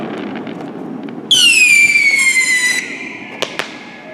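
Fireworks go off over a lake: one close, loud whistling firework screams with a falling pitch for about a second and a half, and then two sharp, distant pops follow over a quiet outdoor hush.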